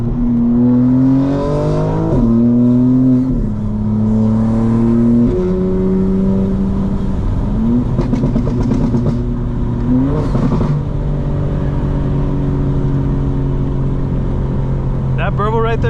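A 900 hp 2025 BMW M4 Competition burbles and revs from inside the cabin, its exhaust rising and falling through several throttle blips and gear changes, with people talking over it.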